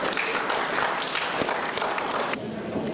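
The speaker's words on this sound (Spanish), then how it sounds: "lo recibimos con fuertes aplausos al magíster Pablo Carrasco" Audience applause welcoming a seminar speaker on César Vallejo, a dense, steady wash of clapping filling the whole stretch at moderate loudness before easing slightly near the end.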